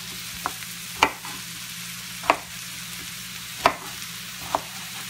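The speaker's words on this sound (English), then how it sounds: "so we're just pan-frying the sprouts." Sprouts pan-frying with a steady sizzle, punctuated every second or so by sharp knocks and scrapes as they are stirred around the pan.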